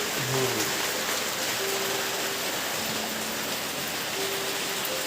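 Heavy rain falls steadily at night around a flooding house, a dense unbroken hiss of water with faint low tones drifting through it.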